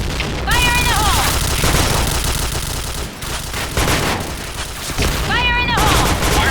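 Gunfire and explosions in an online shooter on the Sandstorm map, a loud, dense barrage of rapid shots and booms, with game voice callouts and electronic chirps breaking in twice.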